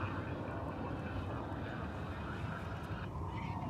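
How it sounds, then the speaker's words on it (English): An American Airlines CRJ 900 ER jet takes off at Dallas/Fort Worth Airport, a steady distant roar of engines heard from afar throughout, faint overall with a slight shift near the end. "Line clear for takeoff, 18 left, American 2698. A CRJ 900 ER from Jackson,"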